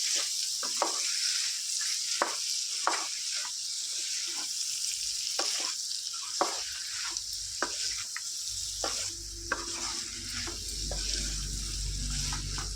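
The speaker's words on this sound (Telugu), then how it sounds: "ఒక రెండు మీడియం సైజు టమాటాలు వేసుకోవాలి ఫ్రెండ్స్ వీటిని చక్కగా ఈ విధంగా కలుపుకుందాం" Medium tomatoes are stirred into frying gongura chicken curry, a steady low sizzle punctuated by repeated scraping strokes of a spoon against the pan, close by and without talk.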